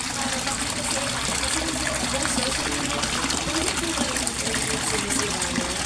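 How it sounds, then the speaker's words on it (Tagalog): A Rizan aerator pump churns water in a koi fish pond, giving a steady, loud bubbling and gushing wash that runs unbroken throughout. "sobrang lakas niya, ang daming bubbles na nakikreate niya or na-produce niya."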